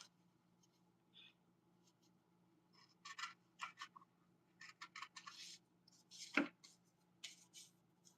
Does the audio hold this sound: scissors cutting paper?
yes